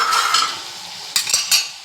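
Tomatoes softening in a pan for tomato chutney, with scraping and stirring strokes over a soft background sizzle, a few sharper utensil clinks near the end.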